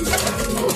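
Soft, low pigeon cooing in a brief burst, close and steady, with faint background noise, from a pigeon loft in San Ildefonso, Bulacan.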